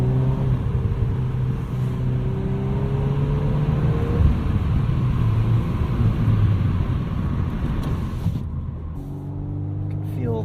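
A 2022 Volkswagen Golf R with a 6-speed manual drives over wet leaves, its engine a steady loud rumble with rising and falling whine. Road and tyre roar fill the cabin, and the engine eases off near the end.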